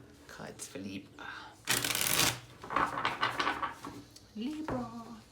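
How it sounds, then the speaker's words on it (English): Tarot cards shuffled by hand for a career reading, a short, dense papery riffle burst in the middle, with someone talking before and after it. "Shuffle."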